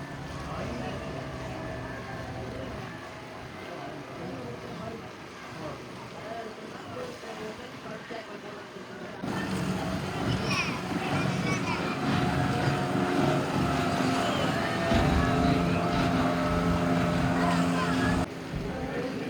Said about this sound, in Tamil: இப்போ படகோட்ட போட்டி ஆரம்பமாகி